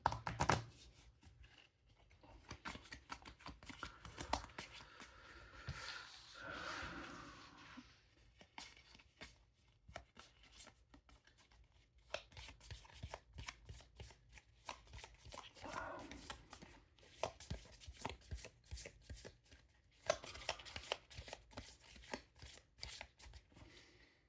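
Game cards for the cooperative deck-building board game Aeon's End being shuffled at length, a dense run of crisp riffling and flicking bursts with brief pauses, close and fairly quiet, with no talking.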